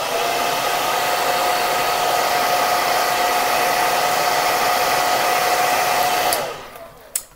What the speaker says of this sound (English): So, all you do is put it on the lowest setting and go like this.